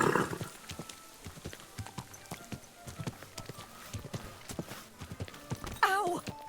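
Horse hooves clip-clop in a steady, close rhythm in Kingdom Come: Deliverance II, with a short whinny near the end and a voice speaking briefly over the steps.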